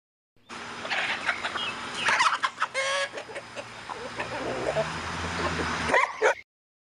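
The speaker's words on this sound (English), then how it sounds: "H for hen." Cartoon hen clucking in an animated alphabet phonics song for children, a few short clucks over bright music with farmyard barking mixed in.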